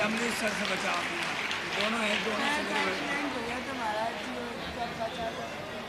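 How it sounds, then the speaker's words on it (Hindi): Audience applause and clapping at a closing ceremony of a religious camp in Ashok Nagar, a steady dense patter lasting throughout with crowd chatter and voices mixed underneath. "आपकी अच्छी तालियां निर्जल वाली बजना चाहिए"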